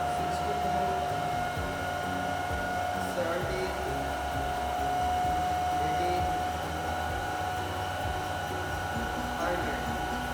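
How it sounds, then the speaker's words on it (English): A DC motor, set to 1500 RPM with a rheostat, hums with a steady tonal whine over a continuous electrical drone. The sound is even and constant throughout, and a voice is faintly heard at times. "Now the motor is doing its work. Motor is giving 1500 RPM mechanical energy"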